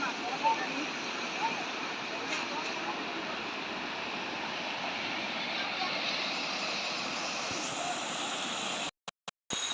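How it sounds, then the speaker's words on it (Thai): Steady broadband rush of water pouring down from the waterfall at Namtok Yong in Thung Song, Nakhon Si Thammarat, loud and continuous along a forest walking path, cut by a few abrupt dropouts near the end. "ข้างข้างทางก็จะเป็นน้ำที่ไหลลงมาจากน้ำตก"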